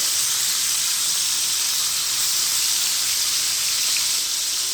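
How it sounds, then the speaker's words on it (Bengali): Rohu fish pieces fry lightly in hot oil in a pan, giving a steady, loud, close sizzle and hiss that holds evenly throughout with no voices. "আর মাছগুলি কিন্তু আমি তেমন কড়াভাবে ভেজে নিব না অল্প করে কিন্তু হালকাভাবেই ভেজে নিব"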